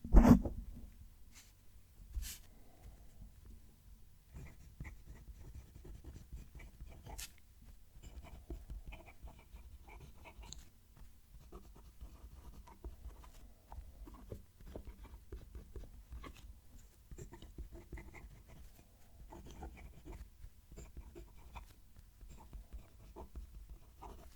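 Fountain pen writing on paper, a Just Turnings Enceladus pen with its nib scratching softly and steadily up close, faint continuous strokes with small pauses over about twenty seconds and no talking.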